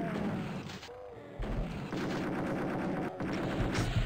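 Shotgun firing in the first-person shooter Doom II: blasts repeated in close succession, steady and loud, over a continuous dense layer of game noise and effects.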